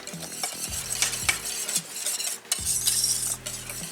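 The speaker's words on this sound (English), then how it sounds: "And I've been whisking it the whole time because I don't want it to scorch." Simmering caramel cream being whisked in a pot, a steady bubbling sizzle under rhythmic metal whisk strokes clinking against the sides, moderately loud with no voices.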